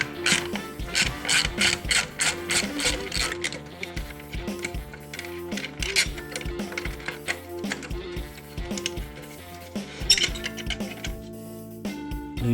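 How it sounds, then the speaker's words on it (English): A 6mm Allen key loosens the lower exhaust clamp of an Arrow Pro Race titanium system on a 2019 Suzuki GSX-R1000R. Close, rapid metallic ratcheting clicks run in rhythmic bursts throughout. "6mm Allen key. Just loosen her off."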